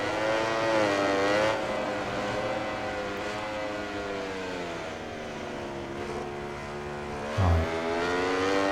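A Ducati racing motorcycle in MotoGP 20 screams at high revs, its engine pitch swooping up and down through gear changes. It stays loud and continuous, with a brief low thump near the end.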